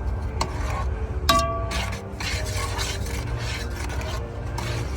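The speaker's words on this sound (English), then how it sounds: "Now mix it" A spoon scrapes and rasps against a bowl as a mixture is stirred for campfire cooking, a repeated close gritty rubbing with a few brief clinks.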